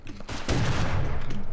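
A double-barrel shotgun firing in the game Rust, a loud booming burst with a rough, rolling tail that fills the moment, no clear talk over it.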